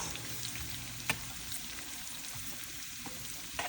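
Onions sizzling in a frying pan for homemade chicken pastel, a quiet, steady crackle with a few sharper pops and light stirring clicks, close up and without talk.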